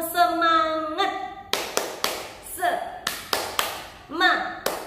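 A class performs the Indonesian rhythmic clapping chant tepuk semangat: a short sung or called phrase, then a pattern of crisp, close claps in uneven groups, with voices chanting between the beats.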